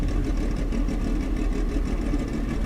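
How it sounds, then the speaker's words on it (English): Dirt race cars in a racing video game idle together in a steady, low rumbling drone that holds even and loud throughout, with no speech over it. "See, now listen to them idle"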